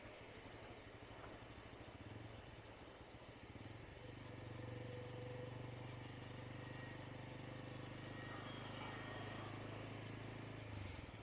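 A motorcycle ridden slowly with festoon banners held by the pillion passenger, its mid-pitched engine running steady and close, with a low throttle rise partway through and no talk.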